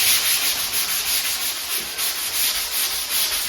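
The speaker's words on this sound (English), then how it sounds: "I'm just gonna use my little sanding block and sand with my hands." Hand sanding a wall with a small sanding block while prepping for paint: a steady, close, continuous scratchy rubbing with an even back-and-forth rhythm, no voices.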